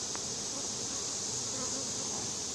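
Honeybees buzz around an open hive, a steady dense drone holding close and even from start to finish with no voices.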